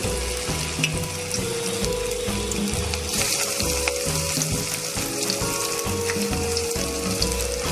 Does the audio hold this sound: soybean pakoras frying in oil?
yes